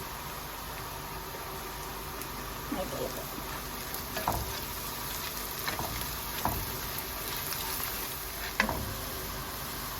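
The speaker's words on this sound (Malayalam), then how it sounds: "ഇത് ഹൈ ഫ്ലെയിമിൽ തന്നെ ഇട്ട് നമുക്ക് വഴറ്റിയെടുക്കാം" Onions frying on a high flame for a Kerala beef peralan, a quiet, even sizzle broken by several soft clicks and scrapes of stirring spaced a few seconds apart.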